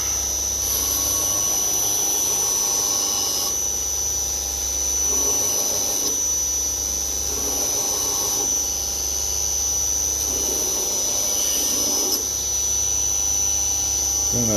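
An A30 grinder runs nonstop during a dagger build, a loud steady whine with a high shrill tone and a low hum, with grinding surges that swell and fade as the blade is worked.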